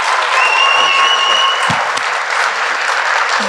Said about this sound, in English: So let's give both of these gentlemen a huge round of applause.